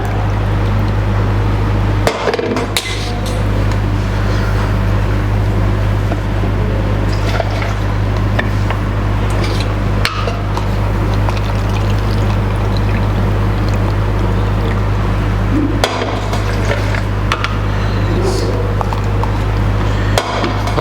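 Steady water pouring into a blender container over a constant low motor hum, with a few brief clunks along the way.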